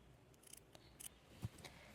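Sewing scissors trim a fabric seam allowance close to the stitching with several quick, soft snips, faint and close in a quiet room.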